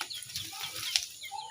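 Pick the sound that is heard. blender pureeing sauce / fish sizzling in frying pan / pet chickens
pet chickens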